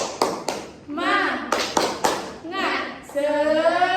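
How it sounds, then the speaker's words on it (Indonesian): A class claps a rhythmic 'tepuk semangat' chant, several sharp hand-clap hits separated by shouted children's chant lines, close and lively with voices dominating between claps. "Kita tepuk semangat dulu ya."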